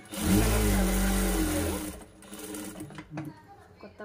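A sewing machine stitching a cross-cut blouse runs in a loud, steady whirring burst for about two seconds, then stops while someone talks over faint handling noises.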